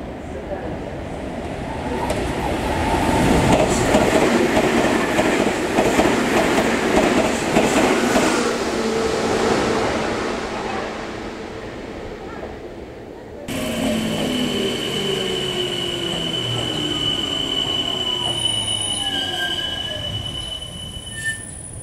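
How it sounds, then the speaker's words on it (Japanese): A non-stopping Meitetsu train rumbles loudly through Kō Station on the Nagoya Main Line in Japan, wheels clattering and squealing, with a sustained metallic screech as it passes and fades. "2番線の電車は通過電車です"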